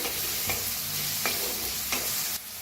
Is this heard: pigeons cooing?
no